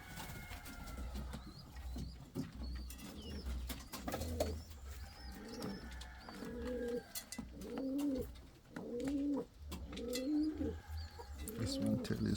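Indian fantail pigeons coo in repeated soft, rounded calls that grow more regular partway through, close by at a quiet level, with occasional faint chirps and rustling around them.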